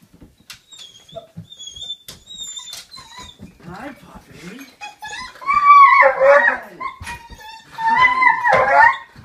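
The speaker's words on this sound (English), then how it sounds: "Doggies never forget." A dog whines and whimpers in excited greeting as a soldier comes home, high yips mixing with people talking and calling to her close by.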